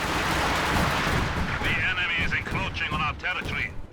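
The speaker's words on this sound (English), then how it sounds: "I called down that little barrage just because I wanted to get my Osttruppen out of there" An artillery barrage in the video game Company of Heroes 2 pounds away in a rapid series of heavy booms and blasts, loud and close, with sharper crackling impacts toward the end.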